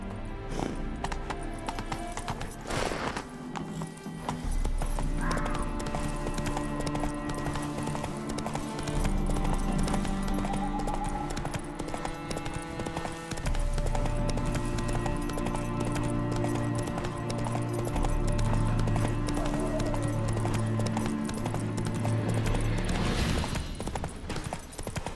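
Roach the horse galloping in The Witcher 3: Hearts of Stone, steady rhythmic hoofbeats throughout with an occasional whinny, over game music and ambience.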